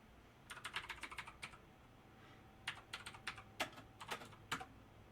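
Quiet computer keyboard typing in two short bursts of fast, clicky keystrokes separated by a pause, close but soft against a faint room hum.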